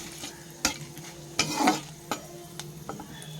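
Whole garam masala, cumin and dried chillies frying in a pan for a vegetarian dish, with a quiet sizzle broken by a few sharp spoon scrapes and taps against the pan, close and fairly soft.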